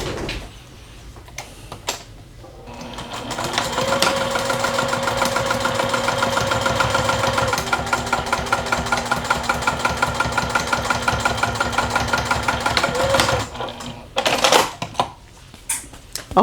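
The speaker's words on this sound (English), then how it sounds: "I'm gonna stitch it along the lining" A sewing machine stitches along the lining of a fabric piece, running in a steady, loud mechanical whir for about ten seconds, with quieter handling sounds before and after.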